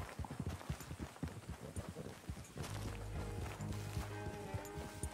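Horse hooves clip-clop in Red Dead Redemption II on the PS4 Pro as a horse flees, with a quick, uneven run of close hoofbeats early on, then a steadier layer of game ambience and hooves.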